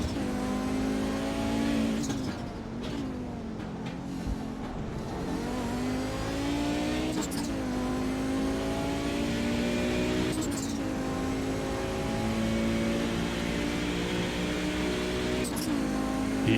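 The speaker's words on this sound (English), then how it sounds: "Let's just go on board one more time with the Audi because I really like the sounds." An Audi race car heard onboard at Monza revs hard through its gears, the engine note rising and dropping sharply at each shift, loud and continuous with a commentator talking over it.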